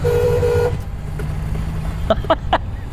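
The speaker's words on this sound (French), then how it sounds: "on va klaxonner les gars là." Several short car horn toots beep in quick succession over the steady rumble of a running vehicle.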